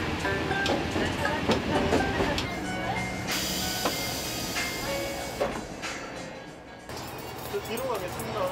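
Last Janghang Line train of the night pulling into Iksan station, a steady rumble with clicking wheels, squealing brakes and hiss, with voices audible underneath.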